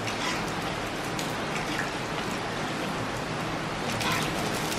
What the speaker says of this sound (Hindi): बहुत तेज है ना बारिश,